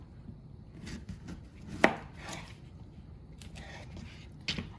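A knife chops through vegetables on a board, halving each piece for a roasted vegetable strata. Crisp, uneven knocks land close by, with one sharp louder strike near the middle and faint room sound between the cuts.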